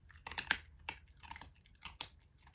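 Quiet, rapid crunching of a small animal chewing a hard treat, irregular crisp bites close to the listener with no talking.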